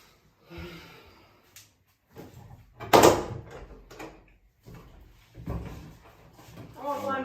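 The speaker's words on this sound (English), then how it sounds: "open the door" A door opening with a sharp thump and clatter, surrounded by people talking and shuffling sounds nearby.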